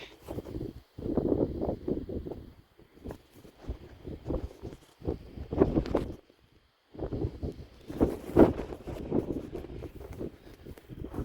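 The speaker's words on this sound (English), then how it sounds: "It's so windy." Strong North Dakota gusts of wind buffet the microphone in loud, rumbling bursts with brief lulls between them.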